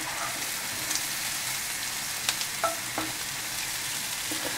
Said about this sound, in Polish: Właśnie smażymy te przyprawy prawie że już na suchej patelni.